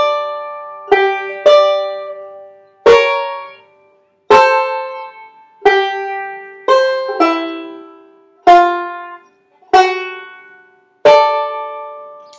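Banjo picking a Reno-style chordy lick very slowly, about ten separate bright plucked chords with gaps of decay between them, close and alone.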